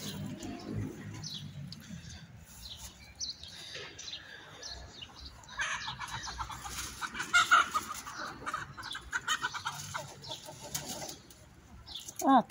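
Chickens in a home garden cluck softly and intermittently, with scattered bird chirps and an occasional crow-like call in quiet outdoor surroundings.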